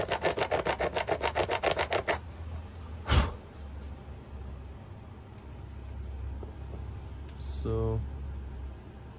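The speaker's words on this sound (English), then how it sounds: "sawing through this as much as I need to" Rapid back-and-forth strokes of a saw rasping through antler, a rhythmic burst of about a dozen strokes, then quieter handling noises.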